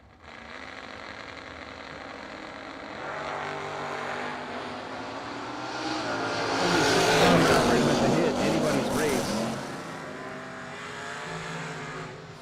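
A Mustang and a Chevy II race side by side down a drag strip, their engines a broad, steady roar that swells to a loud peak midway and then fades, with an announcer talking over the noise.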